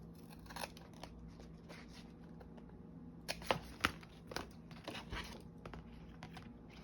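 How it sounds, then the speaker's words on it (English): Scissors trim around a paper scrapbook page, with a cluster of crisp snips and paper rustles in the middle of the stretch over a steady low hum. Quieter handling sounds come before and after the snips, and no one talks. "We still have this piece to trim around."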